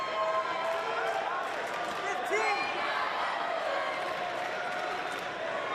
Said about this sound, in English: Crowd getting into it with the home team